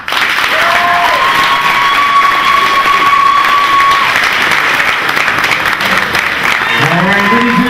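A wrestling crowd at a Hall of Fame induction breaks into sustained applause and cheering, with shouts and whistles rising above the clapping and voices calling out near the end.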